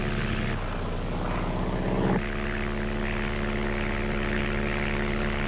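Two small propeller planes flying over rainforest, a loud, steady droning engine roar with a constant pitch that shifts slightly partway through, close and continuous without any voices.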